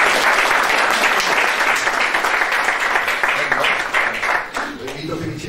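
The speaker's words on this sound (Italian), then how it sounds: "che facciamo un grande applauso" A conference audience on vineyards and landscape breaks into sustained, loud applause welcoming a regional agriculture official, dense clapping filling the room for several seconds and tapering slightly at the end.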